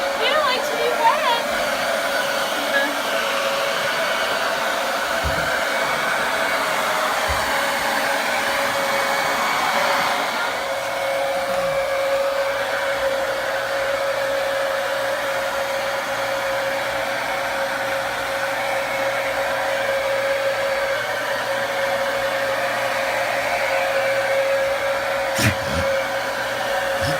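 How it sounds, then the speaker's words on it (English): A hair dryer blows steadily on a wet dog after time in the snow, a continuous loud whirring hum that runs throughout with a slight change in tone partway through. "You getting the blow dry?"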